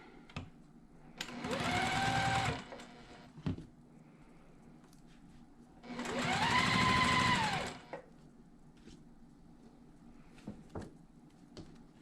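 A sewing machine stitches a quilt block in two steady bursts of a couple of seconds each, separated by quiet handling clicks, close and fairly soft, with no talking.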